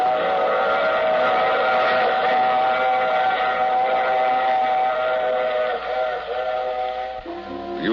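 A train rolls past with a long, sustained steam-style whistle sounding steadily over a rumbling background, as a sound effect in a 1952 radio drama; the whistle holds for several seconds before fading into clatter.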